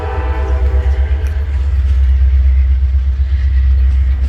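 A Norfolk Southern freight train rumbles past close by with a heavy, continuous low roar, and a loud horn blast sounds at the start.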